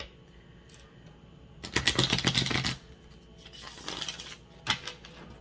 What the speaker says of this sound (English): I'm going to go ahead and shuffle one more though